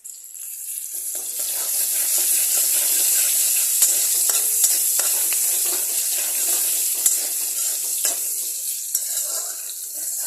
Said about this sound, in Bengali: কড়াইটা অলরেডি গরম আছে, সেই জন্য আর ওয়েট করবো না, সঙ্গে সঙ্গে এখানে একটু কুচি পেঁয়াজ দিয়ে দেবো।